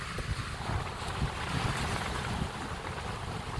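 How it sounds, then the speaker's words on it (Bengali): Strong wind of about 70–80 km/h roaring and buffeting the microphone, with waves churning beneath it amid light rain, a constant loud rush outdoors at a beach in Hatgram, Bhangura, Pabna. "এত পরিমাণ বাতাস, প্রায় 70 কিলো 80 কিলো হবে এরকম বাতাসের বেগ"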